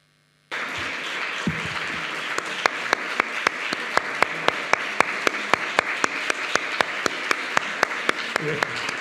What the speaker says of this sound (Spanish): Este aplauso ha sido un reconocimiento a tu conferencia